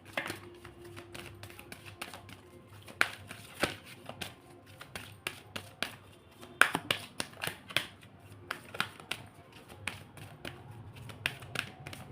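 Tarot cards being shuffled during a reading, a string of close crisp riffles and taps in irregular bursts, moderately quiet, with no speech.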